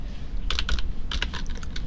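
Typing on a computer keyboard in a home or office setting, entering a search term: a close, brisk run of clustered key clicks in short bursts with brief pauses, no talking.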